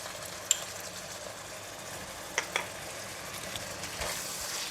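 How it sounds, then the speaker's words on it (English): Minced pork and luffa stir-frying in chili garlic oil in a wok, a steady soft sizzle with a few sharp utensil clicks and scrapes as the food is stirred, no talking. "Stir fry until the minced pork changes color."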